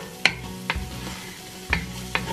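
Diced onions and chopped garlic cook in a soup pot under a constant low sizzle, and a spoon stirs them with four distinct scraping knocks spaced across the moment.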